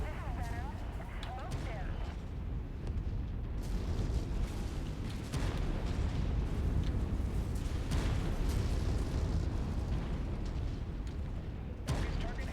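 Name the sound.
artillery fire and explosions in a tank video game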